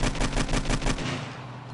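Rapid burst of AK rifle fire in the video game 7 Days to Die, about a dozen loud sharp shots in quick rhythm that stop abruptly, followed by a fading echo.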